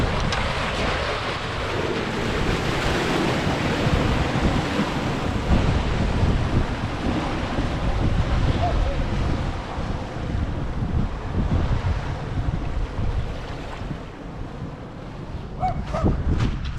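Water flows in Coney Creek, a shallow mountain stream on an off-road trail, as a steady broad rush heard close and mixed with wind buffeting the microphone.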